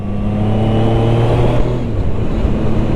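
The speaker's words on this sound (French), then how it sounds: "On peut cruiser tranquille en 4e à un peu moins de 3000 tours minute sur un petit filet de gaz." A Zontes 703 RR motorcycle cruising in fourth gear just under 3000 rpm on light throttle hums with a steady, loud, close engine drone throughout, with no voices.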